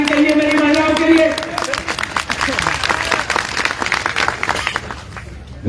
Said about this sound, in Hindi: अरे मुझे लाहौर की ताली चाहिए मेरी महिलाओं के लिए।